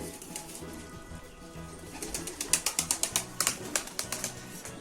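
Young Mardin pigeons, freshly fledged, coo in a quick rhythmic series of soft repeated notes, growing a little louder midway. Faint wing and background rustling sits underneath, with no talk.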